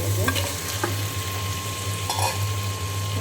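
Spice paste fries in oil in a pan with a dense, continuous sizzle, close and fairly loud, while a few light stirring scrapes and clinks come at the start and again near the middle. No voices are heard.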